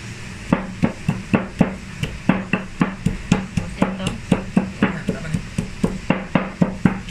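Garlic pounded in a mortar for Thai papaya salad, a steady series of sharp, close knocks, about three per second, repeating for several seconds with little else around.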